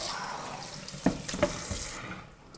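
Kitchen tap water running into a sink while food is rinsed during home cooking, with garlic frying nearby; a steady close wash with a few clunks and splashes, no talk.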